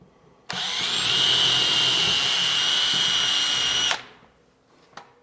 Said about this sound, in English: I still need to drill that, so I might as well drill it.